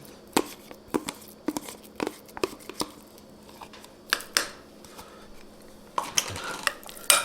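A spoon taps and scrapes against a pan as keto meat lasagna filling is stirred, giving irregular sharp clacks over a low background hum.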